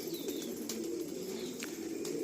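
Pigeons coo steadily in a large multi-section pigeon loft beside a house, their soft overlapping calls close by and fairly quiet, with a few brief chirps mixed in.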